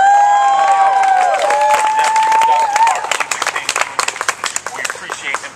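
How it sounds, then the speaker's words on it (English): Rally crowd breaks into applause and cheering, dense clapping at first under a voice and whistles, then thinning into scattered individual claps as it fades. "give him a round of applause"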